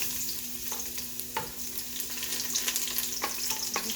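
Garlic sautéing in a pan for ginisang sardines with upo, a steady crackling sizzle under several spatula scrapes and light knocks against the pan.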